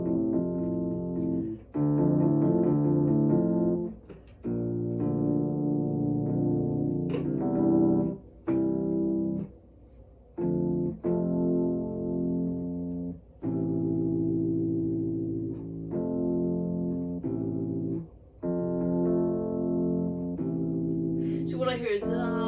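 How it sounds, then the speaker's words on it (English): A vintage electric piano plays a simple melody of sustained, bell-like chords and single notes, separated by brief gaps, clear and close with no other instruments. "really just mundane, some sort of piano,"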